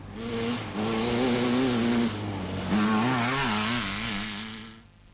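Race cars on a 1983 course pass with a steady engine drone whose pitch rises and wavers as they accelerate, loud and fairly close before fading at the end.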